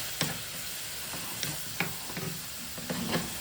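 Minced meat and peas cooking in a pan: a soft, steady sizzle with a few scattered scraping stir clicks, quiet and close, no voices.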